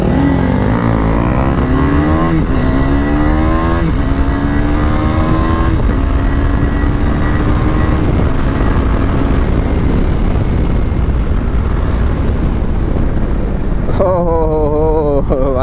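A KTM Duke 390 and a Yamaha MT-15 rev and accelerate hard in a drag race, loud rising engine tones sweeping up through the gears continuously, with another sharp rev near the end.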